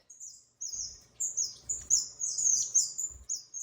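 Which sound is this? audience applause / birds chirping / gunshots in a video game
birds chirping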